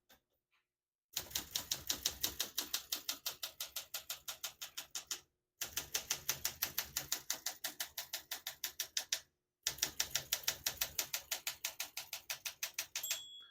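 Keys clatter in quick, even runs on a 1965 Olympia SM9 vintage portable typewriter, three bursts of crisp mechanical strikes separated by short pauses, close and clear with no voices.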